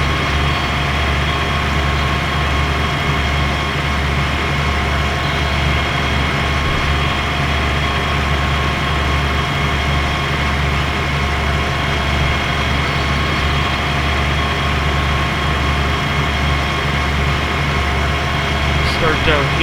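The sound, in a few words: tractor engine running in video game Farming Simulator 2013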